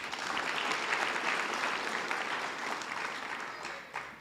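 A crowd at a school graduation ceremony applauds steadily, a dense wash of clapping that holds for several seconds and then tapers off.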